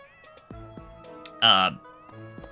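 A cartoonish cat in the video game Fire Emblem Three Houses gives one loud, bright meow, preceded and followed by a soft, tonal background melody.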